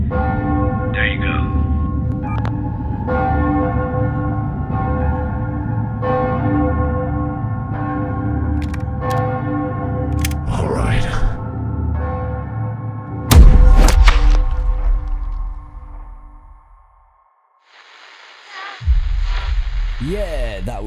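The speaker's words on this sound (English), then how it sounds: "ring the bells." Church bells ring repeatedly in a steady clanging rhythm, loud and resonant, followed by a heavy thump and a brief burst of other sound.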